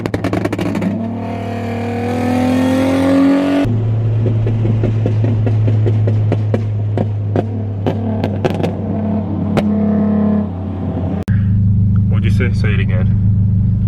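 A Honda Prelude's engine rumbles steadily from inside the car while cruising at night, a loud low drone with shifting revs and clicks, with people talking over it.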